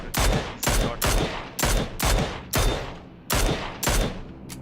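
Gunfire in PUBG comes in repeated loud bursts of rapid shots, each ending in a short echoing tail, roughly every half second to second, near and sharp with no talking.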